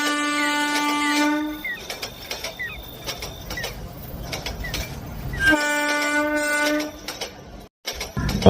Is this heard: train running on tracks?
yes